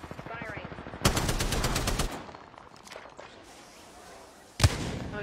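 Rapid automatic gunfire bursts in the Apex Legends video game, a loud fast-repeating volley followed by quieter game sounds and another sharp shot near the end.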